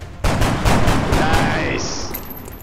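A gunshot in the strategy game XCOM: The Long War, with a sharp crack followed by a burst of rapid-fire shots over a sustained rumbling tail, ending in a whining high-pitched tone.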